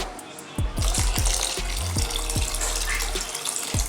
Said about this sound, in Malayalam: ഇതിലേക്ക് കുറച്ചുകൂടി വെള്ളം ഒഴിച്ചു കൊടുക്കാം.